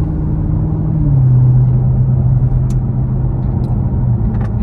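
A Chevrolet Camaro ZL1 rumbles on backcountry roads, heard from inside as a loud, steady low engine drone with a slight pitch shift, continuous and without talk.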